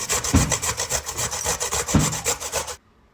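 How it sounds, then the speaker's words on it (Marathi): Carrots are grated by hand for carrot halwa, a quick run of rhythmic rasping strokes up close that stops abruptly after about three seconds. "आणि आता किसून घेते"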